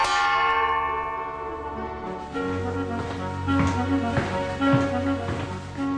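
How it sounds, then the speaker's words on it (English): A ringing electric dinner gong tone decays, then a run of sharp metallic strikes rings out in an irregular rhythm, fairly loud and close, with no voices. "they saved muscle power and lung power by using an electric dinner gong"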